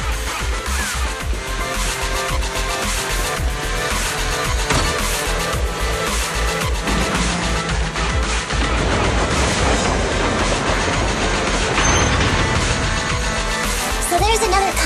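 A train in the video game Zenless Zone Zero rumbles and clatters along, loud and continuous, with a steady rolling drone and metallic rattling throughout.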